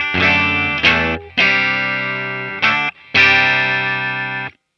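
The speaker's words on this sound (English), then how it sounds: "Going through a very clean patch on the katana and straight into the door, it sounds like this." A clean electric guitar tone from a Boss Katana amp runs through a Fender Hammertone delay pedal with modulation. Three ringing strummed chords sustain in turn, each trailing a short shimmering echo.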